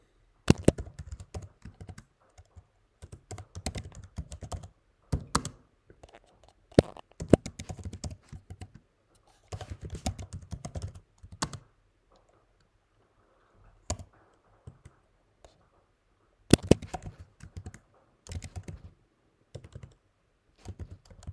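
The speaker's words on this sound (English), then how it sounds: "I'm gonna type in a couple of emails here." Computer keyboard typing email addresses, irregular clusters of close, crisp key clicks with frequent pauses between bursts, quiet and without speech.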